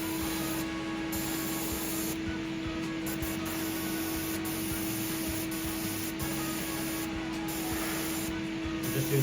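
An airbrush sprays paint in a steady, continuous hiss with a faint constant hum beneath it, close and even, with no voices.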